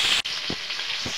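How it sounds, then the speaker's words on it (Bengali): Ilish fish frying in hot oil as it is turned in the pan: a steady, loud sizzle close by, with a brief dip near the start and soft low thumps from the turning, and no voices. "আমি মাছটা উল্টে পাল্টে ভেজে নেব।"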